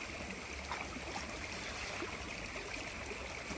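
A river where people come to do their washing flows steadily in a continuous broadband rush, close and even throughout, with no voices over it.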